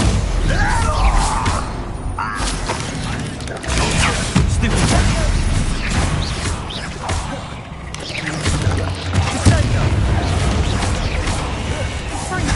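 Bombarda and Confringo spell blasts in Hogwarts Legacy, dense crashing bursts and booming impacts layered with combat clatter, loud and continuous, with game voices calling out between hits.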